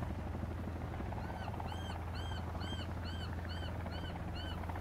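A helicopter in the video game Sons of the Forest gives a steady, low droning rumble, with a repeating warbling tone layered above it at an even rhythm and no talking.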